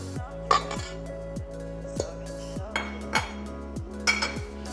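Flour being added to cookie dough in a mixing bowl, heard as repeated clinks and knocks of utensils against the bowl at a slow uneven rhythm over a steady low hum.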